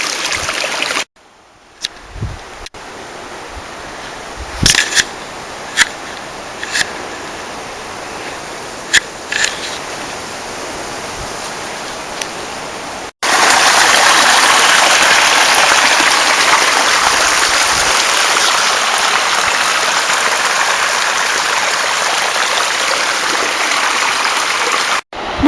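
Mountain stream rushing along a hiking trail to Villmanndalen in Rondane, Norway: a steady, loud broadband roar of water that swells even louder partway through, with a few scattered clicks early on.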